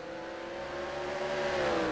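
BMW race car in a Sylvania Cup race at Brands Hatch, a steady engine drone rising slightly in pitch as it runs past, continuous and moderately loud with no talk.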